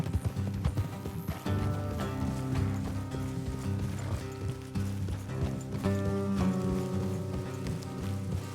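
Horse hooves clop rhythmically in Red Dead Redemption 2, a steady galloping beat layered under game music and ambient sound, fairly loud and continuous.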